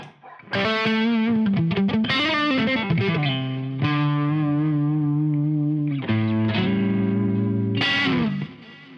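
A distorted electric guitar through a Quad Cortex multi-effects processor plays sustained, gliding notes and bends, thick with chorus and effects, ringing out alone with no talking.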